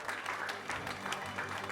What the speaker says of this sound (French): Et sous vos applaudissements, ça va les aider également.